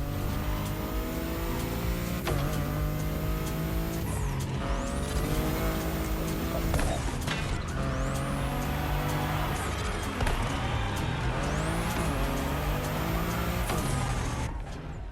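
A Toyota Supra A80 Special Edition racing in The Crew Motorfest: a steady loud engine drone that climbs in pitch through repeated gear shifts, with occasional tyre squeal and almost no talk.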